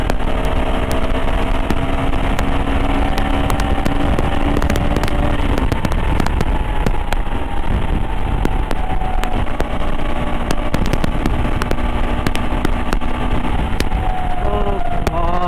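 A KTM Adventure 390 motorcycle engine on a Sunday morning ride, droning steadily and loudly throughout with a rising and falling tone as the rider shifts and accelerates, mixed with constant wind rush and no talk.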